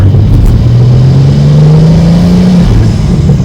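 A BMW G87 M2 fitted with an AWE intake revs steadily and loudly, its engine note climbing smoothly over about three seconds, then dipping briefly before resuming, with no talking.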